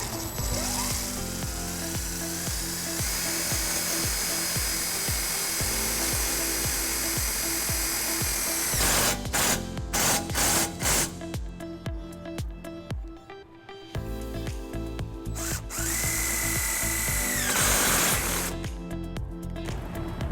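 Power drill driving self-tapping screws into a wiring bracket while installing a wiring harness on a 2011 GMC Canyon; several bursts of whirring motor and screw grinding, close and loud, with no speech.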